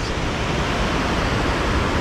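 A mountain waterfall in the Adirondacks roars as a steady, dense wash of rushing water, loud and unbroken throughout with no voices.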